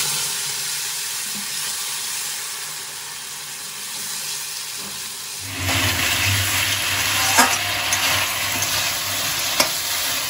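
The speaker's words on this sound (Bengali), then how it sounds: "এবার আমি যে টমেটো, আদা আর লঙ্কার পেস্টটা করেছিলাম সেটা দিয়ে দিলাম।" A tomato, ginger and chilli paste hits a pan of frying potatoes for a fish curry, raising a sudden loud, steady sizzle halfway through that continues with occasional spatters and stirring clatter, following a quieter low hiss of frying.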